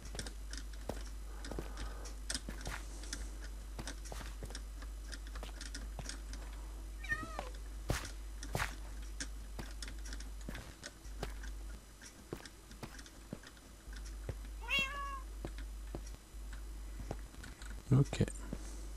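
Short cat meows from the video game Minecraft pop up a few times amid quiet game sounds and keyboard clicks, faint against the background with soft talking nearby.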